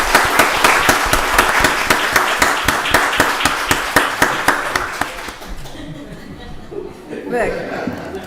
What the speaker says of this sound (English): Y'all give it up for Brian.